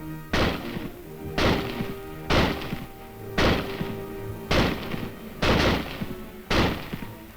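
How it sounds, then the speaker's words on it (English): A rifle fires an eight-round clip at a marksmanship range, seven or eight sharp, loud reports spaced about a second apart in a steady rhythm, each followed by a brief ringing decay, with no voices. "Simply insert another clip of 8 rounds and commence firing."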